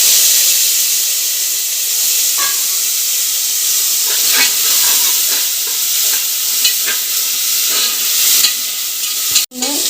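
Curry leaves and whole onion sautéing in a hot pan for Kerala-style beef fry give a loud, steady hiss and sizzle, with occasional light stirring taps and a sharp clack near the end.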